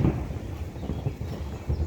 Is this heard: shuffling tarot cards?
no